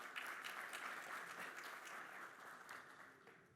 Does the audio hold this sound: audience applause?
yes